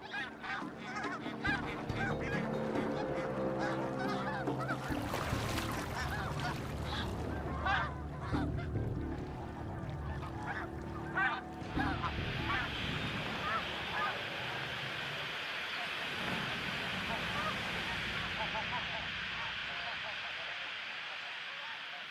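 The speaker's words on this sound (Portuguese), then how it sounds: "Este ganso machucou a asa, o que dá à águia a chance que ela precisa." A goose with an injured wing honks repeatedly in the wild, loud and harsh, with a narrator speaking over the calls and water or wind noise behind.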